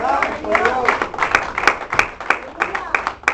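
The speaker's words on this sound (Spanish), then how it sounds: "Denle un aplauso al Señor." A church congregation claps together, a steady run of sharp handclaps with voices mixed in underneath, close and loud, with the clapping thinning into scattered claps toward the end.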